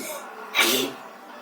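A single short sneeze bursts out sharply over a quiet background, close to the listener.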